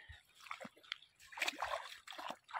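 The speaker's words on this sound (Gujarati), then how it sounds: "અહીંયા જો પાણી ચાલુ છે" Irrigation water flows into an onion field, giving a faint, uneven splashing and sloshing in short bursts.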